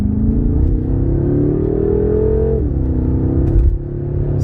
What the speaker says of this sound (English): I'll get on it a little bit here so you can hear that exhaust.